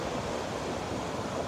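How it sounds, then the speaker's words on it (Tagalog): Strong surf pounds the shore at Cannon Beach under gusting wind, a continuous loud roar with steady buffeting noise and no voices. "Lakas talaga na alon kasi ang hangin-hangin"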